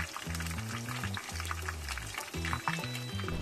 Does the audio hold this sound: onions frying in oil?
yes